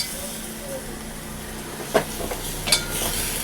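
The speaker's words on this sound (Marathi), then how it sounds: "मिक्स करून घेते छान वांग बटाट टाकून घेतलं आहे" Brinjal and potato are stirred in a hot pan, with a steady frying sizzle and a few scraping clinks of the spoon against the pan toward the end.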